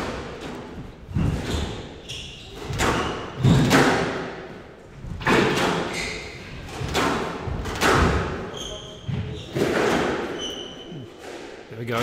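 A squash rally in a league match, the ball cracking off racket and walls in a quick series of sharp, hollow thuds with squeaking shoes, while a commentator talks over the play.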